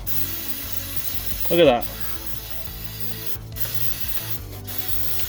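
A short, loud hiss of heavy-duty parts cleaner sprayed onto the grimy differential of a 2004 BMW 320i, a single burst lasting well under a second against quiet workshop background, with someone speaking briefly.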